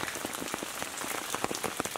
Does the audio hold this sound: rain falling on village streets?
yes